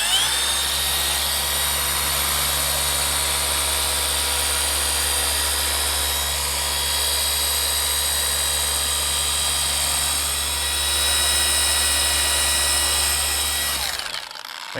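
A Milwaukee cordless polisher spins at 4,400 RPM on the Techno Violet paint of an E36 M3, giving a steady, loud motor whine with a low hum underneath that holds for most of the clip before cutting off near the end.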